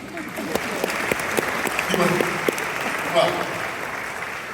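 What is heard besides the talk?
audience applause at an awards ceremony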